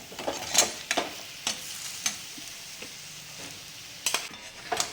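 Potato pieces frying in hot oil with turmeric in a pan for Kolhapur-style batata vada filling, stirred with a utensil: a steady close sizzle broken by repeated scraping clatters of spoon against pan, no voices.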